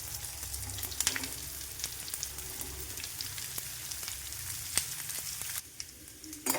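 Pumpkin pieces frying in hot oil in a pan with dried chillies and curry leaves, giving a steady close sizzle with occasional crackles and pops throughout.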